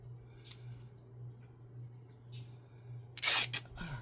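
Scissors snip through a paper corner while making a junk journal, a quick burst of close, crisp cutting near the end that follows a quiet stretch.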